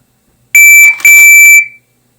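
Indoor shot timer sounding its start signal, a loud piercing electronic beep in two closely joined bursts lasting about a second altogether, then silence.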